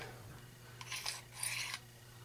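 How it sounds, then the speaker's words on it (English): The bolt assembly slides straight back out of a Ruger Mark III 22/45 pistol, giving two short, faint metallic scraping rasps close by over a low steady hum. "you're going to remove the bolt assembly out. Just simply pulls out straight back like that"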